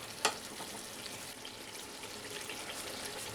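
Spice paste sizzling with watery ridge gourd in a pan, a dense, even hiss of frying held steady throughout, with one brief sharp clink near the start and no voices.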